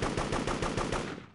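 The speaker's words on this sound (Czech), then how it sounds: "on tam furt střílí, kámo, ale on si mě nevnímá" Rapid automatic gunfire rattles in the video game Devastation, a fast, evenly spaced burst of loud shots that fades out toward the end.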